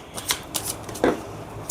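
Tarot cards being drawn and shuffled by hand, heard as a few soft, papery swishes and flicks spaced across a short moment, fairly close and quiet, with no talking.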